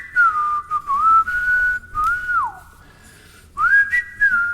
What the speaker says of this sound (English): I keep saying y'all need to whistle with me right here.